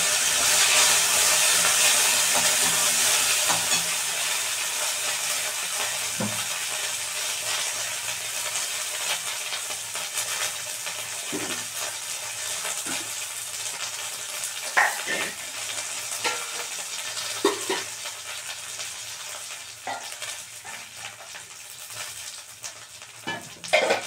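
Curry leaves fry in hot oil for semolina upma, a loud, steady sizzle that slowly settles, broken by occasional scrapes and clinks of stirring.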